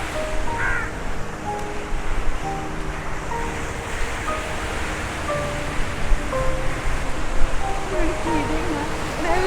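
Sea waves wash steadily against a rocky, sandless shore at Marari Beach in Kerala, a continuous surging roar with wind buffeting the microphone and faint voices in the background.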